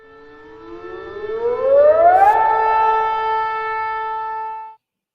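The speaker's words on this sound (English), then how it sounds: "How about the siren?" A wailing siren rises in pitch, holds a long steady tone, then cuts off abruptly; loud and alone.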